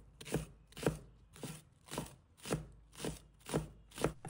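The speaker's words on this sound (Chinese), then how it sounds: "几根葱白，把它切成小粒" Knife chopping scallion whites into small pieces on a board, eight evenly spaced, crisp strokes about half a second apart, close and clear with no talk.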